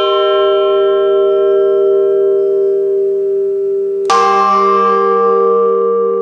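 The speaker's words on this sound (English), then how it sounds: "the chime of a bell isn't just a sound or music" A large church bell in Tyrol rings with a deep, long-sustaining hum, then is struck again with a bright clang, its rich overtones ringing out loudly.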